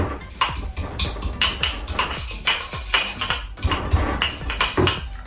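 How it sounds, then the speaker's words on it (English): Cardamom pods being bashed with a pestle in a mortar, repeated hard knocks and clinks at an uneven rhythm, close and fairly loud, with no talking. "I've got some in my pestle and mortar already, so I'm just going to put a couple more in. And then all you do is you're going to give it a good bash"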